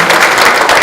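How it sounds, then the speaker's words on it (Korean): Audience applause at a policy forum on regulatory reform in Incheon, a dense, loud burst of many hands clapping together, brief and close. "박수 부탁드립니다."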